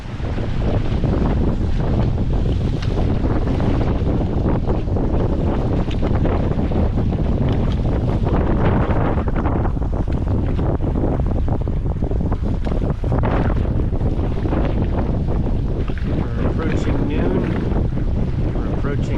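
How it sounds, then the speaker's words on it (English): Steady, loud wind roar buffets the microphone aboard a sailboat under way, with water wash and hull noise blended in for the whole stretch and no talking. "Wind has picked up a little bit. It's a nice sail."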